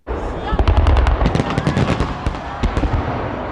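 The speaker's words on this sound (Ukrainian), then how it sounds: "Із цієї нагоди на Росії у Москві вчора навіть запускали святкові салюти." Celebratory fireworks over Moscow crackle and pop in rapid volleys, loud dense bursts with a hum of distant voices under them.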